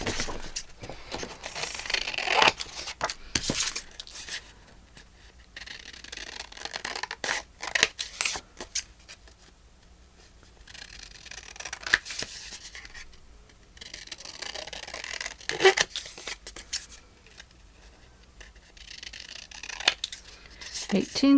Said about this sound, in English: I'm just going to nip these corners a little bit.